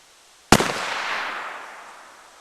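A single sharp, loud blast from a civilian percussion revolver fired into an old paper catalog, with an abrupt onset and a long reverberant decay trailing off over about two seconds.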